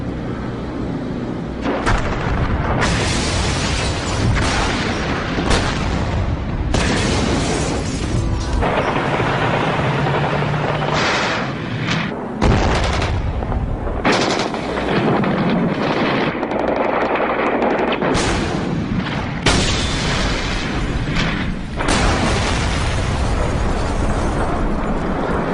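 Artillery shelling and gunfire at the Moscow White House as troops storm the building: dense, continuous booms and bursts, loud and close, rolling on without pause.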